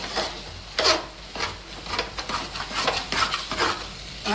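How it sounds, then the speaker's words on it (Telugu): Potato kurma cooking in a pan over a low flame, with a steady faint sizzle under repeated scraping and stirring strokes of a spoon against the pan, close by and irregularly spaced. "చిన్న మంట మీద మగ్గనిచ్చుకుందాం"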